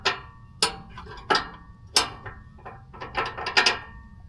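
A wrench ratchets on a nut on a Paccar MX13 diesel particulate filter of a Kenworth T680 or Peterbilt 579 truck, sharp metallic clicks and clunks in an uneven series of about a dozen, close by with no talking.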